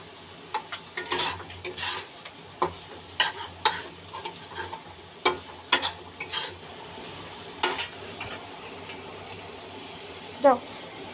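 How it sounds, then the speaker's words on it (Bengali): Potatoes fry in a pan for chow noodles under a low sizzle, while a utensil scrapes and knocks against the pan in irregular strokes; a faint voice is audible in the background. "আলুটা একটু ভাজা ভাজা হয়ে গেছে মোটামুটি।"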